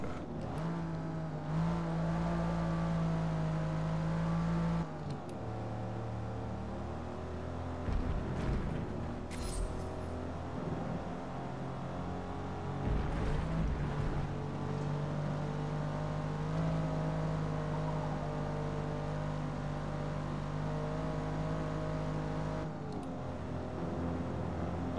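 An Aston Martin DB5 drives a lap of the Nürburgring, its engine droning steadily and close with shifting pitch as it accelerates and eases off, continuous and alone throughout.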